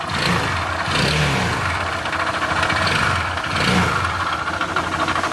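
A Honda motorcycle engine with a damaged connecting rod runs close by, its rough, uneven drone swelling and dipping as it revs, with a knocking, rattling undertone.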